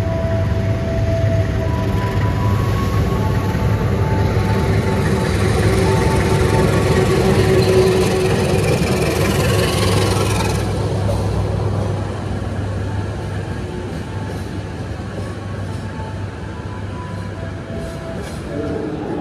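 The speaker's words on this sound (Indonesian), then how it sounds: "Kereta api Malabar dari Bandung baru saja tiba di stasiun Malang" A loud, steady rumble of the Malabar train from Bandung rolling into Malang station, with humming tones that ease off as it slows and quiets.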